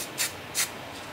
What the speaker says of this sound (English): spray that on there while I'm doing them